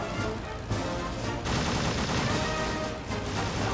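Machine gun bursts from a WWI biplane in the Rise of Flight flight simulator, a dense rattling fusillade lasting several seconds with brief dips between bursts, loud and continuous with no talking.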